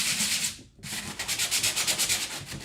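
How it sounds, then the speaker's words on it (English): Wood for a condiment caddy is sanded by hand in steady back-and-forth rasping strokes that are loud and close, with a brief pause before a quicker rhythmic run of strokes. "I'm trying to like talk on top of the sanding"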